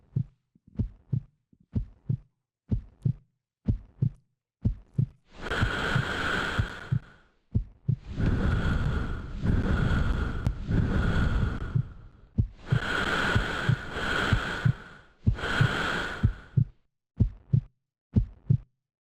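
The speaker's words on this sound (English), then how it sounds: "a soundtrack of heart beating and heavy breathing" Soundtrack of a beating heart with heavy breathing, accompanying a graphic of a human chest in a new media artwork: steady double-thump heartbeats open and close the piece, while loud, long breaths swell through the middle, with no talk.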